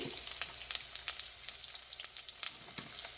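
Crushed ginger sizzles and fries in hot oil with popped mustard seeds in a pan, a steady close hiss broken by sharp crackles and pops, with no voices over it.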